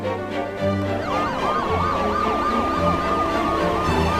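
An ambulance siren wails continuously and loudly, its pitch sweeping up and down in repeated cycles over steady traffic rumble, with no talk, during a street emergency scene in a Hindi-dubbed Korean drama.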